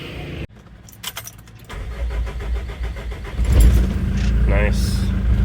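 A Mitsubishi Pajero diesel engine, fitted with a new start-stop solenoid and fuel filter, cranks and catches after a jangle of keys, settling into a steady, close idle that grows louder and rougher toward the end.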